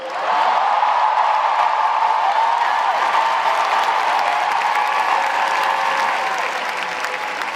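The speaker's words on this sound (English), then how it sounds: "Don't clap too loud or I'm going to get jealous." A crowd at a political campaign endorsement event breaks into sustained, loud applause mixed with some cheering, holding strong before easing slightly toward the end.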